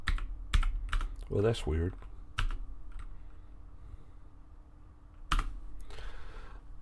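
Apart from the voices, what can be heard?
typing on a computer keyboard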